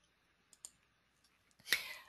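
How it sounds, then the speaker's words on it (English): A computer mouse clicks on a Save button, a couple of faint, quick clicks at close range, followed by a brief louder rustle near the end. "And then again, click on Save."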